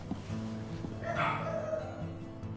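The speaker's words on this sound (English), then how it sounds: "Sorry for my dogs barking" Several dogs bark and yip in the background of a room, fairly faint and intermittent under a steady hum of game audio, with a brief whimper-like rise in the middle.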